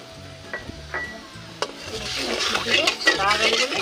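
Sugar syrup for biscuit gulab jamun heats in a pot on the stove while a utensil stirs it. Scattered knocks against the pot come first, then a rising bubbling simmer with scraping strokes, close up.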